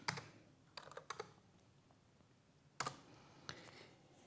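Numbers typed on a computer keyboard, a few quiet scattered key clicks in two short bursts with pauses between, close and alone.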